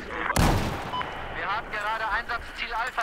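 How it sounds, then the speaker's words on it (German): A grenade blast and gunfire sound in the Battlefield video game: one sharp, loud explosive burst early on, followed by a rumbling background as players talk over it. "Ich hab ihn erledigt mit meiner Granate."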